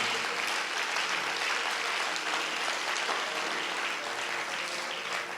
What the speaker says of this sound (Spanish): Ese aplauso es para Jesús, fuerte ese aplauso para Él.